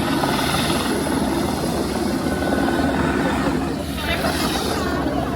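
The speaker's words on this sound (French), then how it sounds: "il y a l'hélico qui est parti récupérer des gens qui se sont noyés" A helicopter flies over a beach in Rio de Janeiro on New Year's, its rotor thumping steadily and loudly for the whole stretch amid crowd noise.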